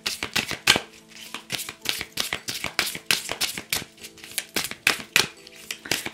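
Tarot cards shuffled for a reading, in a steady run of quick crisp riffles and slaps, close and fairly loud, with no talk over them.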